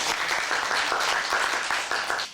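At a Korean-language speech contest for foreign workers, the audience greets a contestant with applause: a dense, even burst of many hands clapping, close and full, fading slightly at the end.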